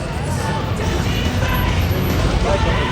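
A GTA Mustang rolls out of the SEMA show amid steady traffic rumble from surrounding cars, with a crowd murmuring and voices talking throughout.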